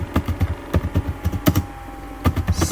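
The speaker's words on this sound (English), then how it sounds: "I will type, what is management" Quick keystrokes on a computer keyboard, a dozen or so close, crisp clicks in uneven bursts with a short pause midway, no voices.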